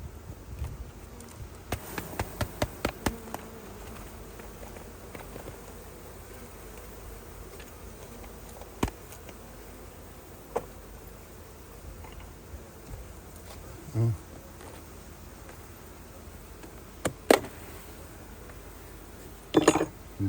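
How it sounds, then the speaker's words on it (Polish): Honeybees swarm around an open beehive in August, making a steady low buzzing hum with scattered soft knocks and clicks from handling the hive. "Jest ogrom pszczół"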